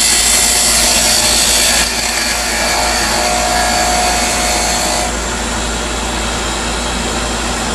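A wood lathe cuts steadily as a small skew chisel works the spinning piece on a lathe-and-bandsaw setup; a loud, continuous broadband shaving and whirring noise runs throughout, with a slight drop in intensity partway through.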